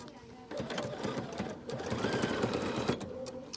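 A BERNINA jumbo bobbin sewing machine sews double stitches with a steady, close mechanical whir and rapid needle clatter that grows slightly louder partway through.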